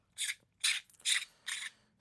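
Four short, gritty rasps of threads turning as the top piece of an airsoft pistol tracer unit is unscrewed, each scrape separated by a brief pause, close and fairly quiet, no voices.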